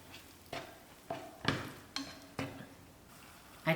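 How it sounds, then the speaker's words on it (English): Spoon stirring tomato sauce with puree in a pot, a series of soft scraping strokes with light clinks against the metal, spaced about every half second, close and quiet. "Stir it well."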